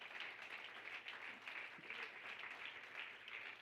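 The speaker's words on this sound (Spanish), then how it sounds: "Podemos darle una ofrenda de palmas al Señor," A church congregation claps together in steady, sustained applause, faint and somewhat distant, with no talking.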